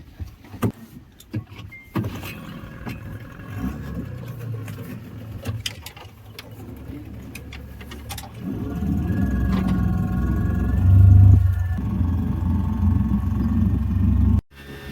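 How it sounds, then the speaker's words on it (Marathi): A boat engine starts for a mangrove creek safari at Devgad: scattered knocks and clatter give way to a motor catching and running steadily, growing louder before cutting off abruptly. "बोट चालू करतोय"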